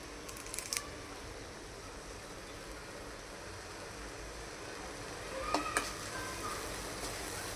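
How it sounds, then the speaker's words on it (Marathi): A ground paste of onion, tomato, coriander and garlic frying in oil, a faint steady sizzle throughout with a few light clicks and scrapes of stirring near the start and again later. "हे वाटण आहे कांदा आणि टोमॅटो आणि कोथिंबीर आणि लसूण. ते थोडंसं असं तेलामध्ये भाजून घेतलेलं"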